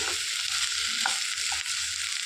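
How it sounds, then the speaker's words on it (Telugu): Half a tablespoon of ginger garlic paste fries in a pan for a Hyderabadi veg dum biryani, giving a steady, bright sizzle throughout with a few faint utensil touches. "హాఫ్ టేబుల్ స్పూన్ అల్లం వెల్లుల్లి పేస్ట్ వేసుకోవాలి పచ్చి వాసన పోయేంత వరకు వేయించుకొని"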